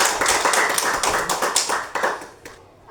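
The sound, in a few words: group of schoolchildren clapping hands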